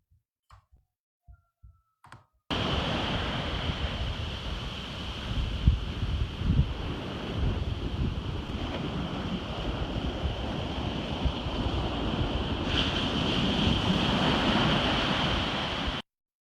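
Ocean waves and surf recorded at San Francisco roar continuously with a deep rumbling wash and heavy wind buffeting the microphone, starting abruptly after a few faint soft thuds and running loud and unbroken.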